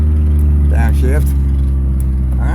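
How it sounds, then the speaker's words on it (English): A car engine runs steadily and close by near a Parker Dam boat ramp, its low hum shifting briefly as the gear drops, with a short rise and fall in tone partway through. "Downshift."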